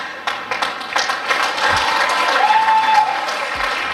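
An audience at a speech claps steadily in a broad, continuous patter that builds slightly and holds, with murmuring voices underneath.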